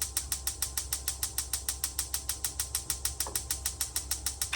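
An RV oven burner igniter in a 2025 Forest River Rockwood Signature 371RK fifth wheel clicks rapidly and evenly, a steady train of about five sharp ticks per second, close and alone.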